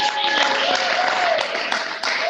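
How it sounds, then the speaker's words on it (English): A school gathering gives a round of clapping for a second grade class, a dense, steady patter of many hands in a room, with a voice talking over it. "Give a round of applause, Miss"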